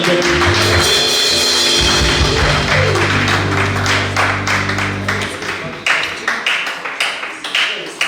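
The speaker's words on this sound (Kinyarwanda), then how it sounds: "reka baririmbyi nabo tubakomera amashyi" Clapping from a church congregation for the singers, a steady wash of hands under music and voices that thins into scattered claps near the end.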